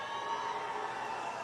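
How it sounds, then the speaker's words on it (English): A US Open men's tennis final crowd cheers and shouts in a steady, somewhat distant wash of noise, with no single voice standing out. "Still crowds cheering"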